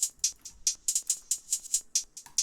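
Hi-hats from an ambient beat, run through a Pretty Convolver reverb preset, tick steadily and brightly at a fairly quick pace. Each hit trails off into a short reverb tail, and no voices are heard.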